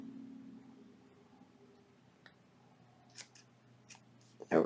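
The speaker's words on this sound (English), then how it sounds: "So I'm going to cut just a little bit of that" Scissors snip through a small piece of iridescent net in a quiet crafting setting, giving a few brief, close cuts and ending with a louder final snip.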